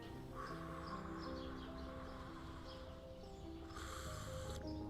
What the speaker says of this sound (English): Early in the morning, Birds singing.